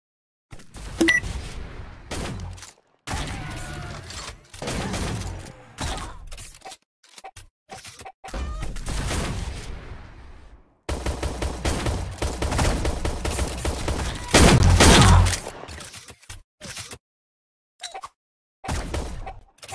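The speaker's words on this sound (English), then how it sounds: "second round shotgun time, which is mainly scrambler" Scrambler shotgun fire in the Shell Shockers online shooter game comes in repeated loud bursts of blasts, separated by short silent gaps and brief beeps over about twenty seconds.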